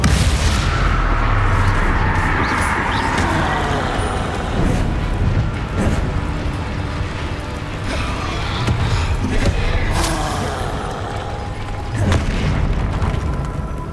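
Confringo and Bombarda explosive spells in Hogwarts Legacy, a run of loud booming blasts and impacts over a dense battle din, repeated every second or two, no talking.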